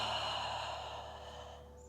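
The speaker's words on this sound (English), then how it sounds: "taking deep breaths, lift the hips, relaxing the head and the neck" A single slow, deep exhale during a yoga session, soft and close, fading gently over a couple of seconds with a quiet steady background hum.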